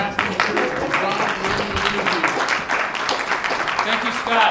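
An audience at a convention panel breaks into applause, a dense patter of many hands clapping close up, with voices mixed in beneath the clapping.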